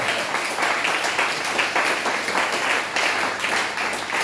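A church congregation in Abidjan applauds steadily, a dense wash of many hands clapping together that holds an even, sustained level throughout.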